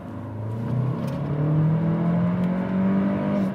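A Renault Arkana engine revving in sport mode, a smooth rising drone that climbs steadily in pitch and holds loud and close inside the cabin, with no talking.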